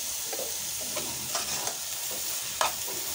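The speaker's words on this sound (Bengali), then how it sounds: "ভালো মতে ডিমের সাথে আমি বাঁধাকপিটা মিশিয়ে দেব।" Shredded cabbage and egg are stirred together in a frying pan with coriander leaves, giving a steady close sizzle broken by scraping stirs for about three seconds.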